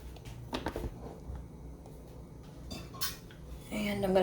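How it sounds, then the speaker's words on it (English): Lid set back onto a container holding dingy bath cloths soaking in heated OxiClean White Revive, giving a few close clattering knocks and a scrape, with a louder rattle at the end. "And I'm going to put the lid back on,"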